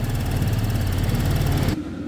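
A motorcycle engine idles smoothly and steadily at close range, a continuous low throb that cuts off abruptly near the end.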